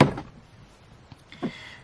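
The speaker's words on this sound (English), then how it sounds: "So I keep all my stuff in my little desk drawer." A small desk drawer opens with a brief thunk, followed by a softer knock a moment later, close and quiet.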